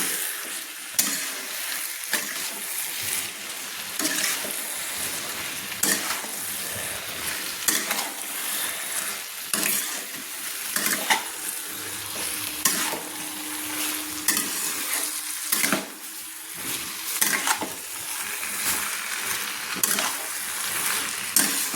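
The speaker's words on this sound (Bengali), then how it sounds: "দিয়ে ভালো করে আমি চিকেনগুলো কষিয়ে নিচ্ছি।" Pre-fried chicken pieces stirred and cooked down with spices in a hot pan, a steady broadband sizzle with repeated scraping strokes of a spoon or spatula throughout, close and continuous with no talking.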